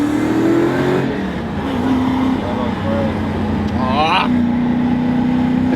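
Toyota JZX100 and Lexus IS200 engines revving on a warm-up lap, a steady droning growl with a rising pitch sweep partway through, with voices chattering over it.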